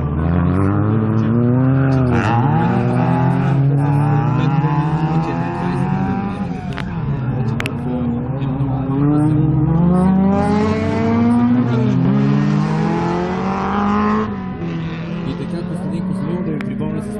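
A Ford Fiesta rally car races past during a rally practice stage, its engine revving hard with repeated rising and falling pitch sweeps as it shifts, loud and close, while a commentator talks over it.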